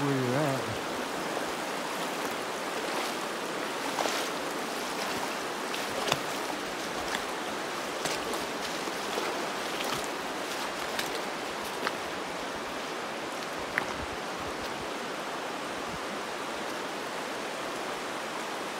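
Steady rushing water fills the scene as someone wades through a shallow river between high rock walls in the Zion Narrows in Utah, with constant splashing and flowing noise throughout and no clear voices.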